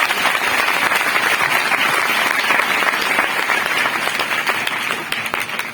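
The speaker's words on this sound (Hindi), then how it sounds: "यीशु मसीह के लिए जोरदार ताली बजाएं" An audience at a church service in India applauds with dense, steady clapping that fills the whole stretch, loud and sustained before easing slightly at the end.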